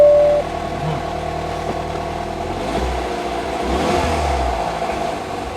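A 2008 Mini Cooper S with no turbo boost (fault codes P115D, P115C) starts and runs in neutral with the parking brake on, a steady mid-pitched engine drone with low rumbling swells partway through, close and without talk.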